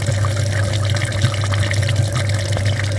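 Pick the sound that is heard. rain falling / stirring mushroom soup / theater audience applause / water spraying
water spraying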